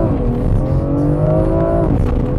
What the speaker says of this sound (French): on met l'accélérateur dans le tapis